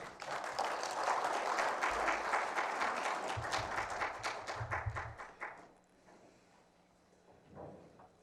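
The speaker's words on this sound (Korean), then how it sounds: "나오실 때 큰 박수로 환영해 주십시오." Seminar hall audience at the Seoul YMCA 120th anniversary clapping to welcome the Jongno district head to the podium: a moderate, steady round of applause that thins and fades away after about five seconds, leaving a quiet room.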